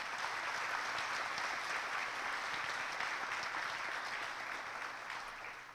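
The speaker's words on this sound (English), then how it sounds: "Let's give our student presenters a big round of applause." Audience applause for student presenters at a Cumberland County education event, a steady, dense clapping from a large crowd that holds evenly throughout and fades slightly toward the end, with no voices over it.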